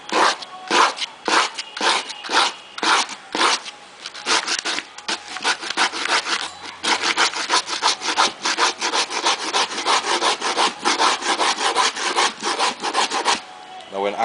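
A hide for a thappu drum is scraped by hand, the skin peeling off in loud, rhythmic rasping strokes that repeat quickly and steadily, close and alone with no talking.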